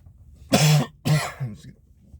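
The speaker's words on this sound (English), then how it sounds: "Still makes me cough to talk like that." Two harsh coughs close together, followed by a softer third cough, up close and otherwise quiet.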